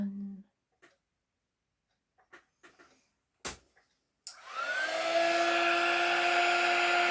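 A heat gun switches on after a few scattered clunks and keeps up a steady, loud blowing roar with a clear whine running through it.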